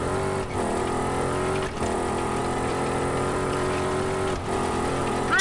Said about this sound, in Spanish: el ruido que hacen las ruedas contra el terreno